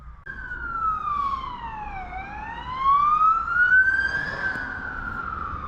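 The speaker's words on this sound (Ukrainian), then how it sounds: "Те, що то якась швидка їде, чи..." An emergency vehicle siren wails nearby, its pitch sweeping down and then rising again in a long, loud, clear tone.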